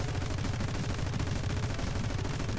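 In a video game, turret gunfire rattles as a dense, continuous barrage at steady loudness, with no clear breaks between the shots.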